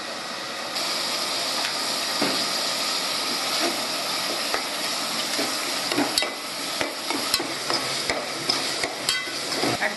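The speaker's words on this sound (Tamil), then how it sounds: "அப்புறம் இஞ்சி பூண்டு விழுது போட்டுடுங்க." Ginger garlic paste sizzles and fries in a pan for prawn curry, a steady loud crackle with a spoon stirring and scraping, and sharp clinks toward the end, with no one talking.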